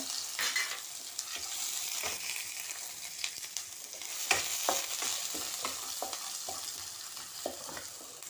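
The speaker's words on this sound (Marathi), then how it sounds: "ही मोहरी तडतडायला लागली आहे त्याच्यामध्ये मी आता हे जिरं टाकते त्याच्यामध्ये ही एक ओली मिरची टाकते त्याच्यामध्ये हा कांदा टाकते" Mustard seeds, cumin, a green chili and onion fry in hot oil while being stirred, a constant crackling sizzle overlaid with frequent scraping clicks of a spoon against the pan, close and moderately quiet, with no talking.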